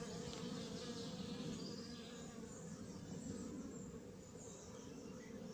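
A small honeybee swarm buzzes inside a hive in Fontainebleau, a steady, dense drone that holds at an even, close level throughout with no pauses.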